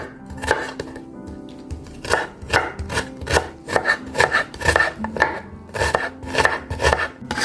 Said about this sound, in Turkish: işe soğanlarımı doğrayarak başlayacağım